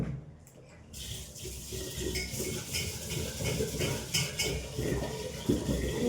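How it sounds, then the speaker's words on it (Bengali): Uncooked rice washed by hand in cold water inside a cooking pot, with steady sloshing, splashing and grains and metal scraping, close up and continuous for several seconds. "ধুয়ে নিয়ে এবার এই হাঁড়ির মধ্যেই নিয়ে নিচ্ছি, একবারে হাঁড়িতে ধুয়ে দিয়ে দেবো।"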